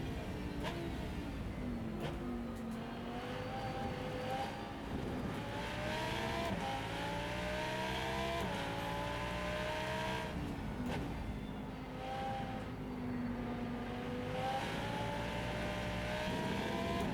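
Racing engine of a Mark III Supra in the Rennsport racing game, a continuous droning roar with rising and falling revs as gears change, steady and loud throughout.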